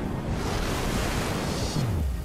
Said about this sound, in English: You hear that too, right? Almost sounds like a waterfall.